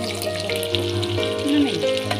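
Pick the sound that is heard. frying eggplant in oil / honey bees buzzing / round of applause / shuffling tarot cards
frying eggplant in oil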